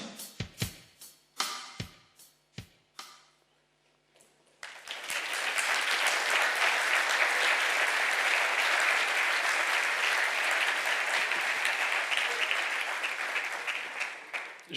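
Scattered claps and a few loud single claps build into sustained, dense audience applause filling a conference hall after a machine-generated hip-hop song, continuing steadily to the end.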